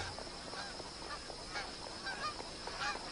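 Geese honking at a billabong, several calls spread over a few seconds, moderately close against a steady outdoor background hiss.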